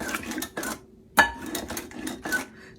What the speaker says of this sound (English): I think I'm going to try this little whisk thing